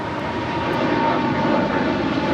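Air Canada heavy jet rolling for takeoff on runway 25 right at Los Angeles International Airport, a loud, steady engine roar that swells slightly, heard alone without talk.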